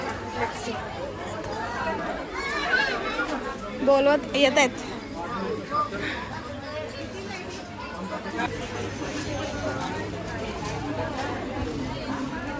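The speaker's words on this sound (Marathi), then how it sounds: "खूप गर्दी आहे" Dense crowd chatter and overlapping voices fill a packed sari shop during family shopping, a steady hubbub with a few nearer voices rising briefly above it.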